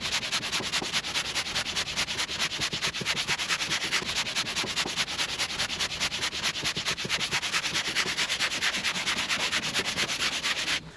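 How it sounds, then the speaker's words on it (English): Steady, continuous rasping of a sanding block rubbed back and forth by hand over fairing filler on a boat hull, close and fairly loud with an even rhythm. "Fairing filler is pretty easy to sand."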